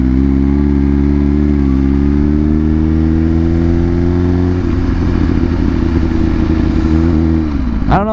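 A motorcycle engine revs steadily and loudly while riding, its pitch climbing and holding, then roughening, with a sharp rev swoop at the very end and no talking.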